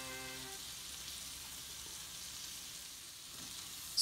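Minced garlic and tricolor peppers sauté in a pan, giving a faint, steady hiss that stays even throughout, with a brief tonal hum at the start and a small clink at the end.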